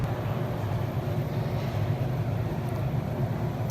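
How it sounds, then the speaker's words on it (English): Train at the B&O Railroad Museum in Baltimore, a steady low rumble with broad noise that holds evenly throughout, moderately loud and close, with no talking. "Another train."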